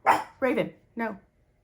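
A dog barks outdoors three times in a quick, fairly loud sequence, each bark short and sharp with brief pauses between, then stops.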